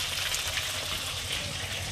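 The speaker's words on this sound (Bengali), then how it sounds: "ভাজা হচ্ছে।" Steady broadband sizzle of fish frying in a pan, loud and close, continuing evenly for the whole short stretch.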